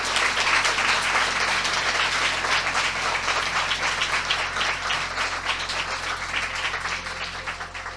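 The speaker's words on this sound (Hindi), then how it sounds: "आइए हम प्रभु यीशु मसीह के लिए एक जोरदार ताली बजाएं" Congregation applauding in a church service for Jesus Christ, a dense sustained wash of many hands clapping at full volume throughout, tapering slightly toward the end.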